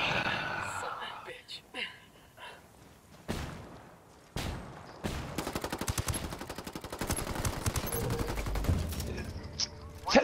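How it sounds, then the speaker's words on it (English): Sustained automatic gunfire in a multiplayer shooter match on a mountain village map, rapid bursts building from about 4 seconds and rattling loud and close, with scattered single shots and game noise before it. "Taking fire!"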